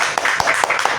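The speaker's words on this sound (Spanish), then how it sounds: "Un aplauso muy grande y bienvenidos pues a la audiencia del país." Audience applause at an international women writers' gathering, with several distinct claps standing out over a steady patter of hands, close and fairly loud.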